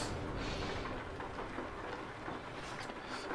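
Rain and rumbling thunder in the trucking game Euro Truck Simulator 2, a faint steady wash of rainfall with low rolling thunder underneath, continuous and without talk.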